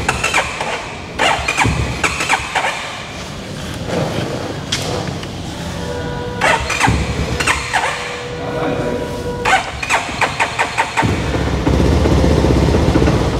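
A CFMOTO SR 300 motorcycle, low on fuel, is cranked by its starter in repeated stuttering bursts that catch briefly into a rough idle and then die, with thumps and nearby voices in between.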